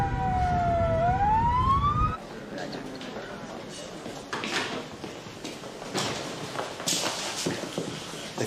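A wailing ambulance siren sweeps down and back up, loud and close for about two seconds, then cuts off, leaving muffled movement and scattered knocks in a tense emergency scene.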